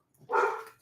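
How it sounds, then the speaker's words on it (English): A single short bark from a pet dog, somewhat muffled and moderately distant, rising quickly and trailing off within a second. "That's my dog barking"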